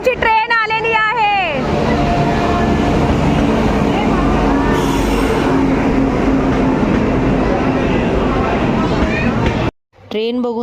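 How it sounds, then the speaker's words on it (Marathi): A Katra-bound train pulls into a station on the way to Vaishno Devi, a loud, steady rumble of wheels and carriages that runs for about ten seconds under crowd babble, then cuts off abruptly near the end. "आमची ट्रेन आलेली आहे."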